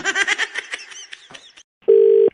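A telephone gives a steady electronic tone lasting about half a second, loud and close, after a stretch of louder sound with no clear voice. It comes through alone.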